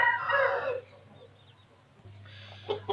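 A sick rooster with a swollen, infected throat and runny eyes gives a short raspy crowing call, close and fairly loud, then a quiet pause before another rough clucking sound begins.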